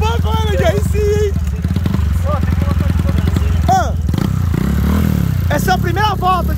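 A small 190 motorcycle running on methanol, its engine throbbing loudly and steadily nearby, with voices talking over it throughout.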